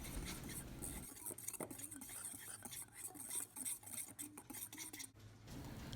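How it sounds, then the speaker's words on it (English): A whisk combines dry seasonings, including parsley flakes, in a bowl for coating garlic scapes: faint, quick, irregular scraping and ticking strokes lasting several seconds, close but quiet. "Now combine all of these ingredients with a whisk and make sure it's well incorporated."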